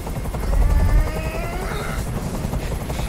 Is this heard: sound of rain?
no